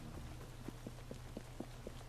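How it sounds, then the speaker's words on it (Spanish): Steady rain hiss fills the scene in the video game Assassin's Creed Syndicate, set in Victorian London, with a soft rhythmic patter of footsteps running through it, constant and moderately quiet. "Es que me encanta a mí la lluvia."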